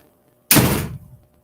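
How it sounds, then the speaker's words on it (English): A door slams shut once, a sharp, loud, close impact that dies away within about half a second, with quiet before and after. "Slam the door."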